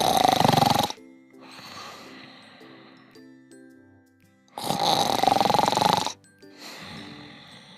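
Snoring from a sleeping character in a children's bedtime story: two breathy, rasping snores about four seconds apart, each followed by a quieter rattling exhale, alone without talk.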